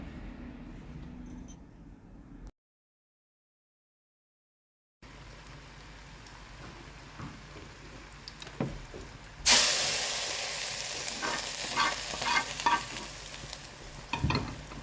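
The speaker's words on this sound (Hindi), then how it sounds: "जो कड़ी पत्ता है उसका मैंने इसको तड़का लगाना है" Oily sizzling and crackling from a hot pan as cumin and curry leaves are tempered, flaring up loudly after a silent gap, with stirring clatter underneath and no talking.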